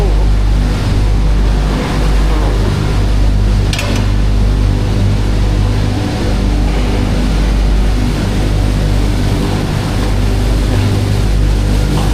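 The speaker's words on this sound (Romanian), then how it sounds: "Acum o să bage apă." Water gushes steadily into a compartment of a food-grade tanker trailer used for hauling juice, a loud continuous rushing wash with a brief clank partway through and no talk.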